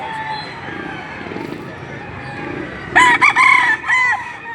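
A restless rooster at a poultry market in Padre Garcia, Batangas crows loudly and close by near the end, its harmonic call rising over a murmur of background talk and clucking.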